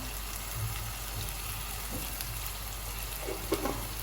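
Tomatoes and onion frying together in a pan, a steady soft sizzle with faint crackles and a couple of small stirring knocks near the end, with no one talking.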